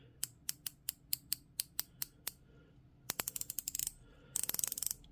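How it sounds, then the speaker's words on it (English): An Accurist 7327 dive watch's 120-click aluminium-insert bezel turns in close-up, giving a steady run of crisp, evenly spaced ratchet clicks, then quicker bursts of rapid clicking, with no talk. "The bezel is a 120 click, so we'll have a listen to that"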